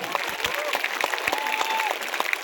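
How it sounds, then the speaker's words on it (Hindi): A large crowd at a BJP election rally in Hailakandi claps steadily and loudly for a candidate, while an amplified voice carries over the applause. "डॉक्टर मिलन दास के लिए जोर से ताली बजाइएगा।"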